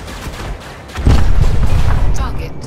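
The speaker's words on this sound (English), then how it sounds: "You know, just keep firing." Ship weapons discharge in Elite: Dangerous during a space combat run, a heavy booming burst swelling up loud and close after a quieter start, then fading slightly.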